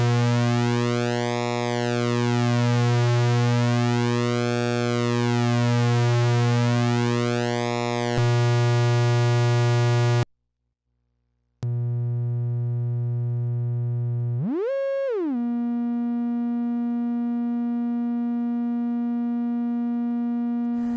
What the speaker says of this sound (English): The pulse width can be voltage controlled, so you can get that nice deep modulation sound from an LFO.